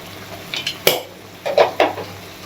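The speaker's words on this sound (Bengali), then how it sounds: "মামুনি একটু নাড়াচাড়া দিয়ে দিতেছে মাংসে, মশলা কষাচ্ছে মামুনি" Spoon scraping and clanking against a pot while spiced chicken curry masala is stirred and fried, a few short separate knocks with faint sizzling between them.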